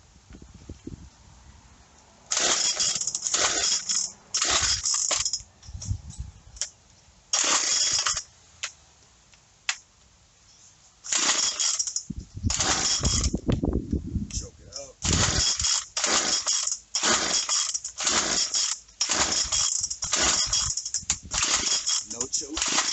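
A Craftsman WC215 string trimmer's small engine is being started with no choke and a little throttle. It gives repeated loud sputtering bursts that catch and die in an uneven rhythm, with stretches of quieter handling between them.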